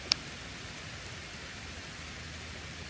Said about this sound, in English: This ain't gonna be much of a rain.